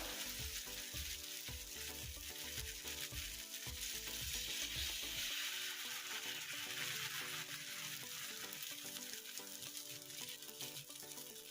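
Barnyard millet (bhagar) batter sizzles on a hot griddle greased with peanut oil, a steady bright crackling hiss that holds loud and even throughout, with a low bubbling rumble fading partway through.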